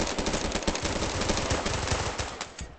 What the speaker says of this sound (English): I shoot at you.